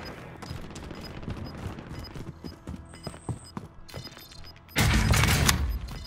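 Gunfire in the video game Call of Duty: Modern Warfare: rapid bursts of shots crackle through the match, with mechanical clicks and a faint tone, ending in a loud, sustained blast of heavy fire.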